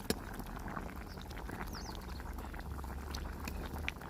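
Fish curry made with scaled fish bubbles gently in a pot outdoors, a faint, soft simmer with a few quiet clicks and distant bird chirps in the background, no voices.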